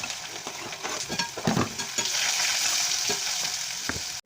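Potato and snake gourd (chichinda) fry in oil with chili, ginger and garlic paste, a continuous close sizzle broken by several scraping stirs of a spatula against the pan.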